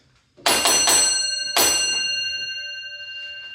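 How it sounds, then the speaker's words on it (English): A railway signal box block bell rings out a code: three quick strikes, a pause, then one more, each a bright metallic ding with a long ringing decay. "That's a bell code"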